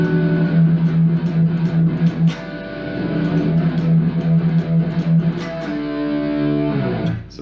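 Heavily distorted electric guitar playing a riff from a song, with sustained chords and palm-muted chugs. Loud and continuous with no voices.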